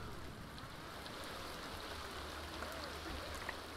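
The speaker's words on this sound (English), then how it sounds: "I think the rain will put it out." Steady soft rain falls in The Sims 2, a faint, even hiss of drops that holds without a break from start to end, with no voices over it.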